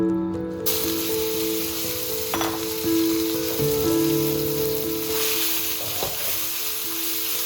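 Loud continuous sizzling of food frying in a hot pan, with occasional scrapes and clinks of stirring, no talking.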